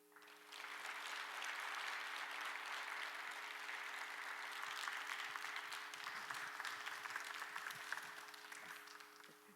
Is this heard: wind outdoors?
no